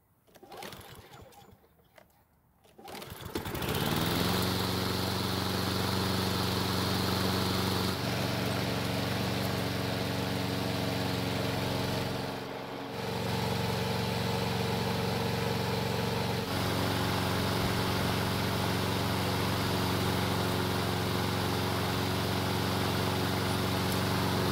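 Husqvarna all-wheel drive self-propelled lawn mower starting up after a quiet moment, then running steadily with a constant whining engine drone close by for the rest of the time.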